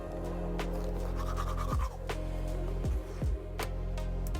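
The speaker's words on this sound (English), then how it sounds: "Teeth are brushed." A purple toothbrush with mini toothpaste scrubbing teeth inside a van at night, steady close wet brushing strokes with a few sharper knocks and pauses.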